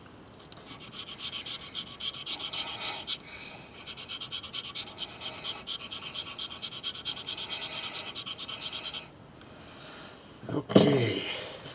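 Hand sanding of a Dendraster gibbsii sand dollar echinoid: a steady, close rasping scrape that carries on for about nine seconds, pauses briefly, then ends in a louder burst of handling.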